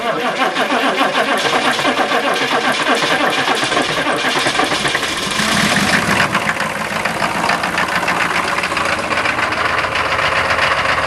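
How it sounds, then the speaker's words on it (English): A turbo diesel K5 truck with glow plugs off is cranked from cold and catches, settling into a loud, rough, knocking idle with a continuous rattling clatter close by. "Let's see how this baby rattles and smokes. Crank her up!"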